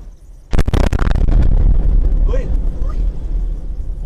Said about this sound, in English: here are a few other angles capturing the moment this ghastly bomb exploded.